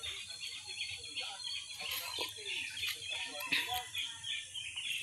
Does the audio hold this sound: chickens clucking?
yes